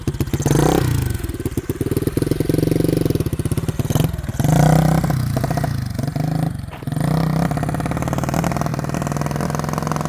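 A small beginner motorcycle ridden by a learner, its mid-pitched engine droning steadily and loudly with brief dips and rises as the throttle and gears change.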